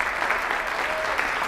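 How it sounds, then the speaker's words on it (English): Steady audience applause fills a lecture hall at a keynote presentation, dense even clapping from many hands that holds at one level throughout. "let's give you a round of applause also."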